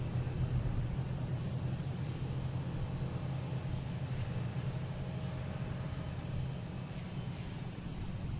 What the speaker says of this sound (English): Cessna 402 heading to Hyannis, Cape Air.